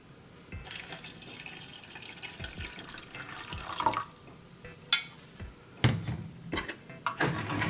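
Water poured into a pouch of vitamin drink mix from a Russian winter ration pack, a light trickle with scattered drips and splashes, then a few louder splashy pours near the end, close by and without talk.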